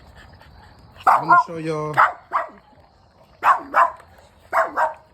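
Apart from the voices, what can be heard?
American bully puppy barking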